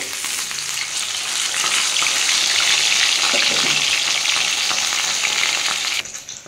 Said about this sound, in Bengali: আর এই 1 পিস মাছ ভাজছি।